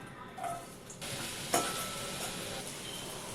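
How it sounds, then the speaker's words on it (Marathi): Garlic frying in oil or butter in a pan for sweet corn soup, a soft continuous sizzle with a stir and a brief sharper crackle partway through, fairly faint. "थोडंसं आपण तेल टाकून घ्यायचं तेल किंवा बटर तेलात हे लसूण"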